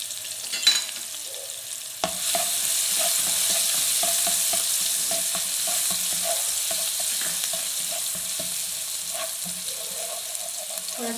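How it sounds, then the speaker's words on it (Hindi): Garlic sizzles steadily in hot oil in a pan while being stirred, with scraping taps from the spoon over a continuous close frying hiss. "ये हमने 1 टीस्पून जो है वो लहसुन मैंने इसमें ऐड किया है"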